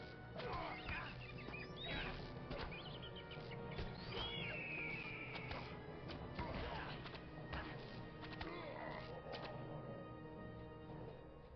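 A bird in a video game gives repeated honking, goose-like calls amid a busy, continuous mix of game sounds and thuds, with some crashing impacts throughout.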